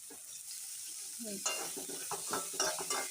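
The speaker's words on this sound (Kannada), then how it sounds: "ಗೋಲ್ಡನ್ ಫ್ರೈ ಆಗೋವರೆಗೂ ಸ್ವಲ್ಪ ಹೊತ್ತು ತಿರುಗಿಸ್ತಾ ಇರಬೇಕು" Onion, dry red chillies and cumin fry in a pan while being stirred. A quiet start gives way to a brighter sizzle broken by repeated scraping strokes of the stirring utensil, with no voice.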